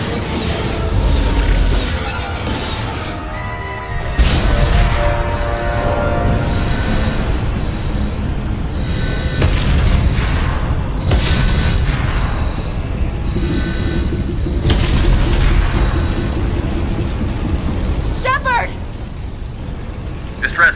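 In the video game Mass Effect 2, explosions rock a starship, with several heavy booming impacts and rumbling blasts landing under loud shouted voices and alarm-like tones throughout.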